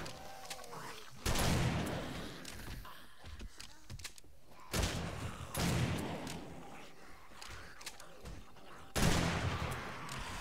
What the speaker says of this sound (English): Why is this double barrel